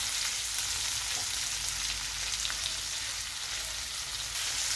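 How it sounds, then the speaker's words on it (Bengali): Cloves, cardamom and cinnamon, with red chillies and tomato, fry in a pan for paneer butter masala, giving a steady, close, even sizzle throughout with no speech. "এগুলোকে এবার আমি একটু ভাজা করে নিচ্ছি"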